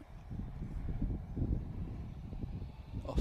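A Ryanair Boeing 737 Max departs Manchester Airport, its engine noise a steady low rumble that swells and dips over a few seconds. Nearby wind or handling noise adds rough bursts, and no one speaks.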